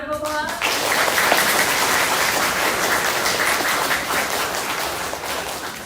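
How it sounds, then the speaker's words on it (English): Audience applause at a spelling bee competition, a steady, loud wash of many people clapping that starts abruptly right after a brief voice and keeps going without a break. "You want to give them a round of applause?"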